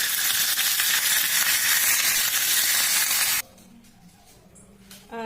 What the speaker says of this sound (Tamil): நான் இப்போ தனியாக வதக்கின இஞ்சி பூண்டு பேஸ்ட்டை போட்டு இதில் ஒரு ரெண்டு நிமிஷம் வதக்கிட்டேன்